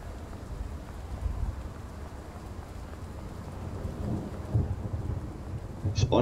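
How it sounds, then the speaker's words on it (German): Steady heavy rain hisses through a thunderstorm in Train Sim World 4 on the Semmering line, with low rolling thunder rumbling underneath and a sharper crack near the end. "Es ist ein richtiger Gewittersturm, also wirklich vom Allerfeinsten hier."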